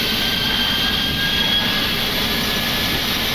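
Jet engines of a Boeing 777-300ER roar loud and steady at takeoff thrust, heard from the cockpit as a broad continuous rush with a faint high whine over it.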